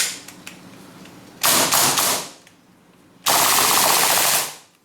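Two rapid bursts of automatic fire from an AST Masada gas blowback airsoft rifle with a gas leak, each a dense clatter lasting about a second, separated by a quiet pause with faint handling clicks.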